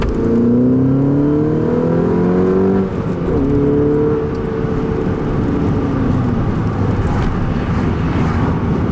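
A 2011 Volkswagen MKVI GTI pulls hard in second gear, its engine note climbing steadily and then holding a loud, steady drone with road and wind noise, heard from inside the car with no talking.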